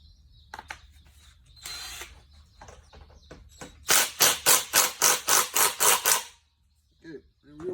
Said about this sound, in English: torque the pulley back down